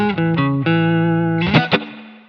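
A Stratocaster electric guitar with a passive mid control turned down plays distorted, mid-scooped chords, several sustained strums ringing out and then a few quick choppy hits trailing off.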